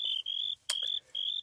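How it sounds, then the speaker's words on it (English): Shrill buzzing chirps from Minecraft grasshoppers come in repeated high trills with brief gaps, one sharp click cutting in midway, close and loud without any voices. "These grasshoppers are literally going to put me in a mental hospital."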